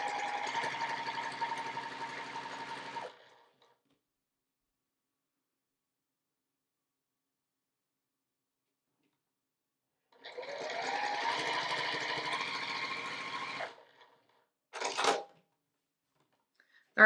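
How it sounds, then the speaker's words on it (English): A sewing machine stitches quilt pieces in two bursts of fast steady whirring, about three seconds each, separated by silence, followed by a brief clack. "so let's lay these together, line them up, and sew"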